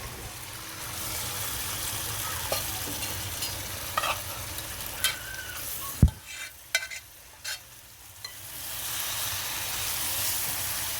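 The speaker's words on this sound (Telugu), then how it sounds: "ఇప్పుడు చేప ముక్కలు వేసుకోవాలి." Fish pieces dropped into a simmering okra curry, a steady bubbling sizzle with a sharp thud and a few clattering scrapes in the middle, then the low simmer continuing.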